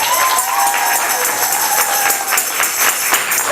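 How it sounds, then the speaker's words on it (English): A school poetry slam audience applauds for Miss Bussy and the librarian, a continuous, fairly loud wash of clapping with faint voices mixed in, steady from start to finish. "please, a round of applause for Miss Bussy and our librarian"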